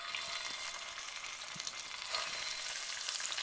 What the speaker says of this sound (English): I can sear my scallops on both sides before it starts to smoke.